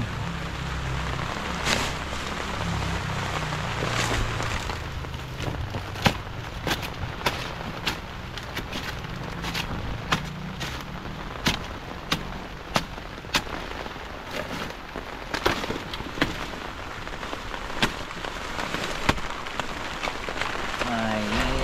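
Heavy storm rain in a rural coastal village where high winds picked up overnight, a steady patter on surfaces punctuated by frequent sharp, loud drips and knocks, with faint voices now and then underneath.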